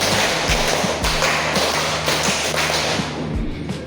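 Rhythmic hand clapping by a classroom of students in a group clap pattern, a steady run of sharp claps in repeated short groups, fairly close and loud over a busy room.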